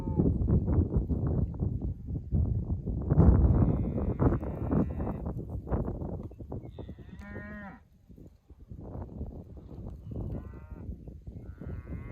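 Cows with calves grazing a forage cover crop field moo repeatedly, with several long, loud, close calls that overlap and trail off, including a brief quieter gap near the end.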